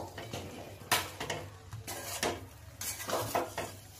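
Chicken tehari stirred in a cooking pot, a spoon scraping and clanking against the metal in irregular bursts over a soft background, close up with no voices.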